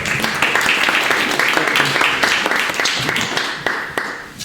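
Loud, close applause from the audience at a public meeting, dense clapping sustained throughout with a few voices mixed in.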